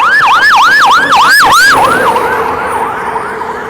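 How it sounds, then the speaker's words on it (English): A fire truck siren wails loudly in rapid rising-and-falling whoops while coming up a hill, then shifts to a fading, steadier tone as the vehicle moves away. "here comes the other way now. Fire trucks coming up the hill."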